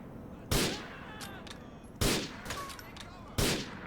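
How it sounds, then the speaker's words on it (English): Three loud, sharp sniper rifle shots in the video game Grand Theft Auto IV, spaced about one and a half seconds apart, each with a short echoing tail and faint game noise between them. "I think we can spend 2 bullets from the sniper rifle"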